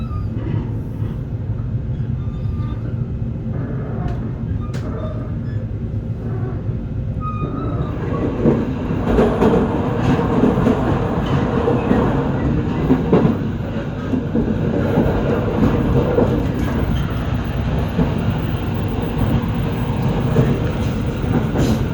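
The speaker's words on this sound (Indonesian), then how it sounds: "Kereta api gaya baru malam selatan menggunakan double track yang berbelok agak ke kiri" Gaya Baru Malam Selatan passenger train rolling on double track through a gentle left curve, a steady close rumble of wheels and carriages with a brief soft rattle, growing a little louder midway and continuing alone without talk.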